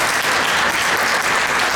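A lecture audience at an ISKCON temple in Toronto claps together in a dense, sustained burst of applause, loud and even throughout with no voices standing out.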